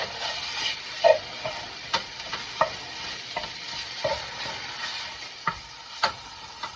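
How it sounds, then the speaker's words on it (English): Sausage is stirred in a hot pan, a steady frying sizzle punctuated by regular scraping knocks of the utensil against the pan, close up with no talking. "Mix my sausage here."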